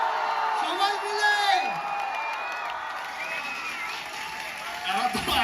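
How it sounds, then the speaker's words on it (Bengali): A large crowd at a trailer launch event for the film Dhumketu with Dev and Subhashree cheers and whoops steadily, with scattered clapping and shouting under a continuous loud roar throughout. "এটা ইতিহাস তৈরি হচ্ছে, জোরে হাততালি হবে"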